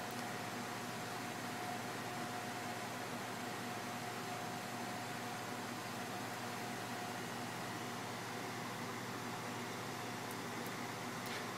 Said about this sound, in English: The induction heater is running on 220, and we're going to be pulling about, looks like 8 amps cold